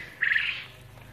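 One short, close squawking call from a quail in a pen shared with a rabbit, bright and slightly wavering, lasting under half a second against quiet background.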